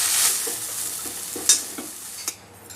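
Washed coriander leaves are tossed briefly in a pan, giving a soft sizzle with a few light scraping stirs and small clicks close by, fading toward the end.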